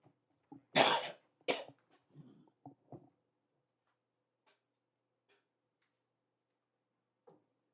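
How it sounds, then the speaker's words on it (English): A person with a phlegmy chest cold coughs in a few harsh bursts followed by throat clearing, close up, then near silence with faint ticks. "But first, I have to cough."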